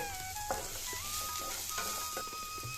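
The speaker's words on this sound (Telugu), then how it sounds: "ఇవి కూడా కొంచెం వేగనిద్దాం ఉల్లిపాయలు ఎక్కువ వేగక్కలేదండి జస్ట్ ట్రాన్స్పరెంట్గా అయితే సరిపోతుంది" Onions sizzle steadily in a hot pan while a utensil stirs them for a stuffed eggplant curry, giving continuous close frying hiss with occasional scrapes and clinks, and a faint tone whistling through.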